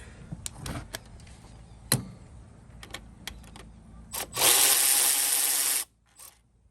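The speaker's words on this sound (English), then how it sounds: "we're going to speed things up a little bit by using a ratchet" Ratchet backing out bolts on the EGR valve of a 2005 Freightliner Sprinter, with scattered clicks and taps followed by a loud, sustained burst of rapid ratcheting, then a few faint clicks.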